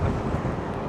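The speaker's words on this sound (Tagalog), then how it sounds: "Lakas ang hangin na salubong natin." Strong headwind buffets the microphone in a continuous low roar, with no voices.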